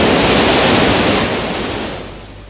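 Broad roar of ocean waves and wind at sea, loud and steady, easing slightly toward the end with no voices.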